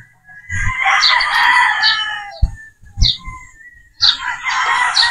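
A straight-combed Boston Roundhead broodstag rooster crows loudly and close, a long strained call followed by short clucks and a second crow starting near the end.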